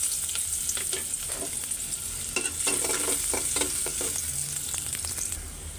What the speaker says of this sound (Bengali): তেল গরম হয়ে গেছে। এখানে পেঁয়াজ আর এই যে তেজপাতা নিয়ে নিছি।